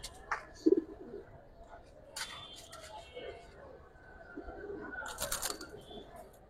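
Giribaz and coloured pigeons cooing nearby, soft throaty coos among other bird calls and a brief wing flutter, with people talking over them.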